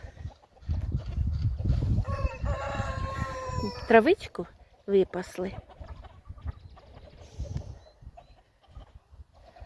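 Chickens cluck in a village yard, scattered calls rising and falling close by, while a person talks over them.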